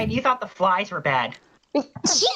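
One short, sharp human sneeze comes right after a quick spoken line, close and loud, with a brief pause before it.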